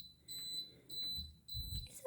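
An electronic alarm gives short high beeps, repeating several times at an uneven pace, fairly faint near a refrigerator, with soft low rustling underneath.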